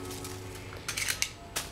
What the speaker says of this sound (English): I'm gonna cut in 1-inch increments all down my whole plastic bag